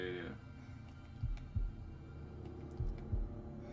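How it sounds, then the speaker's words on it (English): Heartbeat effect in the Man of Medan video game, two pairs of soft, low, thudding lub-dub pulses over a quiet hum, faint and close, with no talk over them. "Do you hear another dog's heartbeat next to you?"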